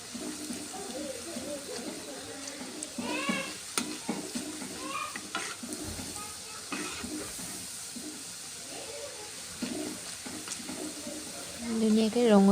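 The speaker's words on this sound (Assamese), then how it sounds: "নিমকিখিনি এতিয়া ভাজি লওঁ।" Nimki snack pieces sizzle and crackle in hot oil, with a steady fizzing hiss beneath the scrape and clatter of stirring. A voice comes in briefly near the end.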